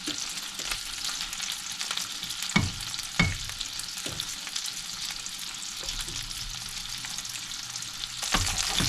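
Salmon fillets searing in a hot pan, some stood on their sides to brown: a steady, loud hiss of sizzling oil throughout, with a few sharp utensil taps and scrapes.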